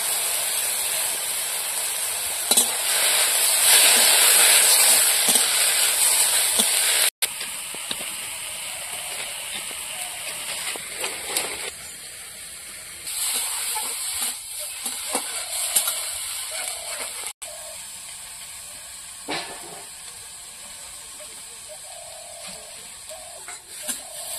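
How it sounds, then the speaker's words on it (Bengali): Shrimp fry in a pan with salt and turmeric, giving a loud, dense sizzling hiss close by that stays steady throughout. Occasional stirring scrapes sound through it as the crackle softens slightly over time. "দুটো তরকারি চিংড়ি মাছ একসঙ্গে ভেজে নিচ্ছি, লবণ হলুদ দিয়ে।"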